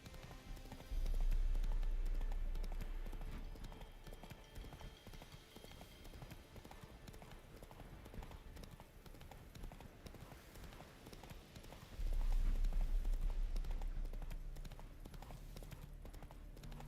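Roach, a horse in the Witcher 3 video game, gallops with a steady clip-clop of hooves throughout, swelling louder around two moments amid game music and ambience.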